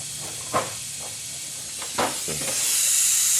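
A vacuum tool draws air out of a Ford Focus cooling system, a steady close hiss with a few short thumps and bursts, the hiss swelling louder toward the end.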